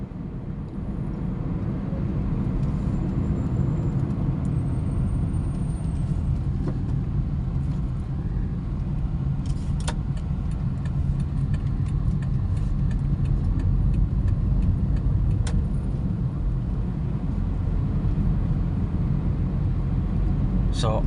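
A Perodua Axia E small hatchback cruising at 100 km/h with its engine just under 3000 RPM, heard as a steady, loud low rumble of engine and road noise that holds constant throughout, with faint higher rattles now and then.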